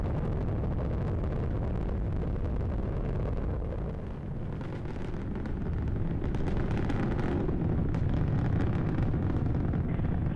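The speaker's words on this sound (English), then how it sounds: "Discovery's engines are throttling down as the orbiter passes through the area of maximum pressure on the vehicle" Space Shuttle Discovery's engines roar during the STS-120 launch ascent, passing through maximum pressure while throttling down. A loud, continuous, deep rumbling roar fills the whole stretch, dipping briefly partway through and then swelling again.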